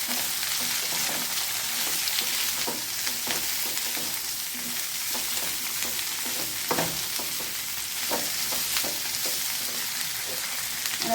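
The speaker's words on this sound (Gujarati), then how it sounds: "અને હવે આપણે કોબી ઉમેરી દઈશું અને મિક્સ કરી દઈશું।" Shredded cabbage for a cabbage-carrot sambharo is tossed into a hot oiled pan and stirred, giving a steady close sizzle with occasional soft spoon clicks and scrapes throughout.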